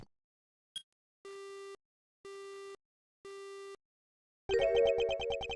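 An Ace Attorney Investigations phone call ends with a click followed by three evenly spaced busy-signal tones, then a burst of bright electronic game sound at the end.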